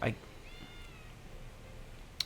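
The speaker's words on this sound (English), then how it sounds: "Oh, it's the cat." A cat in the Tales of Arise video game gives a short meow, a thin wavering cry heard faintly over quiet ambience, followed by a brief louder click near the end.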